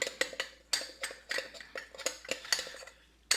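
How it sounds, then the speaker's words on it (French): A utensil stirs sourdough starter with a little honey added in a container, making close, rhythmic clinks and scrapes against the sides at a steady pace. "On remue bien."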